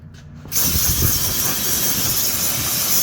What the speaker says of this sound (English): So I'm just gonna use some compressed air and just clean this up a bit.